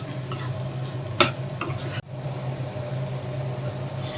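Spiced masala sizzles steadily in a hot pan while a spoon stirs it, giving a couple of brief scraping clinks against the metal. Close and continuous, with no voices.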